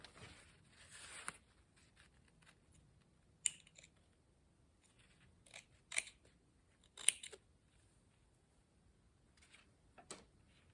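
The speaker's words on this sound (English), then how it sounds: "So I'm just going to trim the excess" Scissors trimming excess fabric while sewing trousers, heard as a few sparse, quiet snips and crisp clicks spread across a mostly silent stretch, with no talking.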